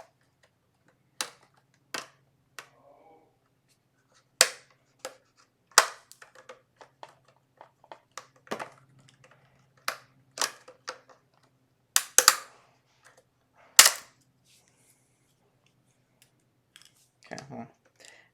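A plastic front plate is pried off a Plextor 708-UF optical drive: a string of sharp, close plastic clicks and snaps in irregular bursts with quiet gaps between.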